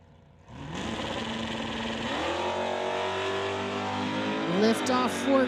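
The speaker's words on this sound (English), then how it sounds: "Lift off for Chris Stone." A drag race car launches hard off the line in a National Tire non-electronics final, its engine roaring and climbing in pitch as it pulls away, with an announcer talking over the noise.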